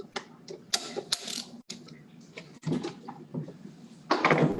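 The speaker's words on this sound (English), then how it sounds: "then we're going to hit it with the torque wrench" A torque wrench tightens fittings to 20 inch-pounds on a water filtration system, making close, irregular ratcheting clicks and metallic handling knocks in short bursts.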